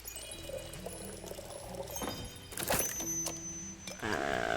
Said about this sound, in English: Gotta pour it a little bit more.